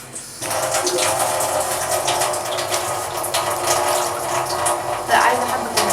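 Water pours into a cooking pot of potatoes and meat, a continuous rushing splash that swells slightly near the end, close to the microphone, with a voice in the background.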